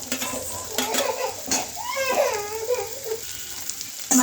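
Green peas stirred and frying in hot oil in a pan for Indori poha, with onion and peanuts already roasted; soft sizzling runs under scraping stirs and light clinks of a spoon against the pan, close up.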